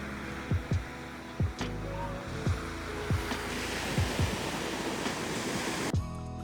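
Waves wash onto a clean beach on the Cabot Trail in Cape Breton, Nova Scotia, a steady roar of surf with several sharper crashes of breaking water, close and fairly loud, with wind across the microphone.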